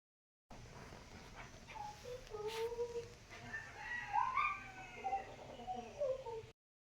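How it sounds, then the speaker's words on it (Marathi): Village chickens cluck and call in a yard as rain begins, fairly faint, with a few higher crowing cries rising and falling over a soft outdoor hiss. "आता बघू शकता कोंबड्यांचा कोकाट चालू आहे"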